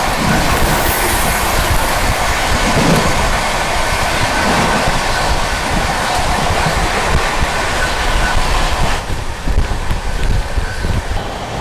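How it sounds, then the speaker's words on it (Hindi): The oncoming 12505 Kamakhya–Anand Vihar North East Express rushes past close by, a loud, continuous roar of wheels and rattling carriages mixed with wind buffeting, with no voices. "सामने से आती हुई 12505 Kamakhya Anand Vihar north east express."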